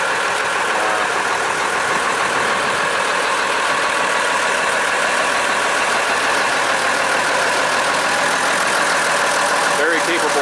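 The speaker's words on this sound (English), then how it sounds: "My 1989 Case IH 7120 Magnum." A 1989 Case IH 7120 Magnum tractor idles steadily nearby, hitched to a New Holland BR780 round baler, with a constant loud diesel rumble and no break.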